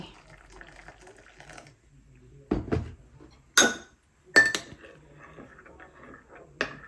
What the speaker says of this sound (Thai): คนก่อน ให้คอฟฟี่เมดละลายก่อน